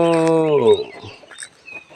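A single loud cluck-like call opens, followed by softer scattered clucks and chirps from nearby chickens in a temple garden, with no talking.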